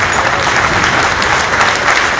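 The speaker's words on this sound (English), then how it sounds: "can we please give a standing ovation and a round of applause for our" Wedding guests at a lavish reception burst into loud, sustained applause for the couple's parents, a thick continuous wash of clapping close and full with no gaps.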